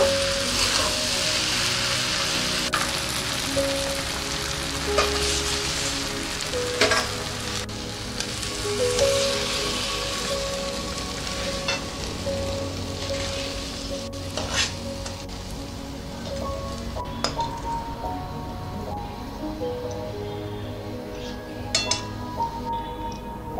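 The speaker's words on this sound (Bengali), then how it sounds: "এবার ভালো করে আমি ফ্রাই করে নেব" Sago (sabu) with chopped coriander leaves fries in a pan with a steady, soft sizzle and occasional stirring scrapes that continue for the whole stretch. No one speaks.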